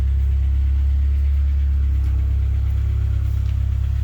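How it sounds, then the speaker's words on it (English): A K-swapped Honda Civic engine idles steadily while warming up, a loud, continuous low rumble with an even, unchanging pulse from start to finish and no voices. "I'm going to leave it warm up on idle and just see what happens."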